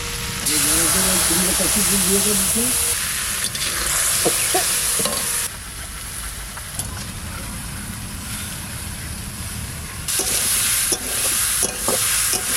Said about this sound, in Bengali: চারটে শুকনো লঙ্কা দিলাম কালো জিরে জলটা গুলা রাখছিলাম দিয়ে দিচ্ছি মশলা